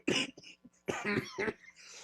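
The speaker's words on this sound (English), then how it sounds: "I cannot believe we're still coughing." Several harsh coughs in quick succession, close and loud, with short pauses between bursts.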